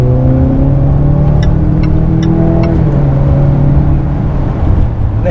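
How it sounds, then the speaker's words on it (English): A 2020 Range Rover Velar P250 S luxury SUV accelerates on the road, its engine a loud, steady drone with a faint rising whine under road and wind noise. "They can definitely hear the engine."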